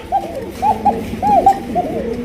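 A male Indonesian pigeon coos in repeated rolling phrases, about four bursts in two seconds, close and loud.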